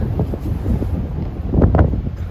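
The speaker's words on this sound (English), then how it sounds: "the wind is really whipping around out here" Gusty wind buffets the microphone outdoors in a steady low roar, with stronger bursts toward the end; no one speaks.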